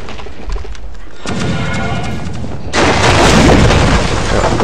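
Ship cannon fire during a pirate naval PvP battle in the Pirate Core video game: a sustained rumbling barrage that jumps louder partway through, with dense booming blasts and no talk.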